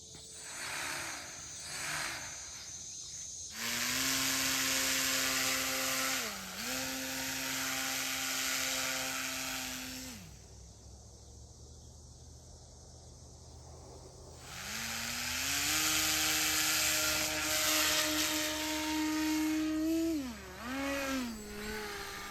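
A HobbyKing V-2 RC paramotor's electric motor whines on its maiden flight, a high buzzing tone that rises and dips as the throttle changes, drops to a low idle in the middle, then spins up loudly again.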